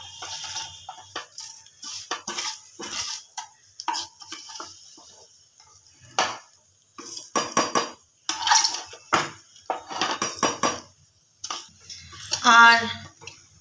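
Nuts and rice poured into a steel mixer jar, giving bursts of rattling, clinking pieces separated by brief pauses, with a sharper metallic clatter near the end.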